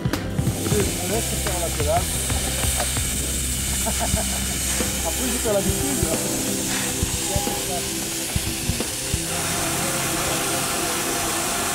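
Steam locomotive on the Puget-Théniers to Annot line giving off a loud, steady hiss of steam, with clanking and mechanical rumble beneath and some voices in the background.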